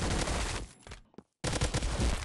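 Glock pistol fire in a mobile shooter game, rapid loud shots in a dense burst, a short gap, then another fast volley.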